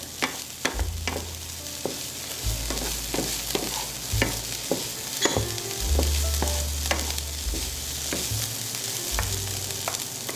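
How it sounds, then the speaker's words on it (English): A spoon works through a stuffed pepper filling with dried basil in a hot pan, scraping and knocking repeatedly over a steady sizzle and a low hum, with no talking. "Mix it."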